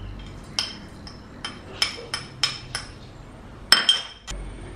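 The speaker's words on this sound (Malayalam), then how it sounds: "ഒരു തണ്ട് കറിവേപ്പിലയും കൂടെ അതിലിട്ട് ചതച്ചു" Ginger, garlic, black pepper, cumin and curry leaves crushed by hand for a Kerala-style jackfruit dish: about eight sharp, separate knocking clinks at an uneven pace, fairly close, with a quieter scrape between strikes.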